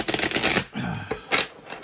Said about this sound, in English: So hard to shuffle these cards, people.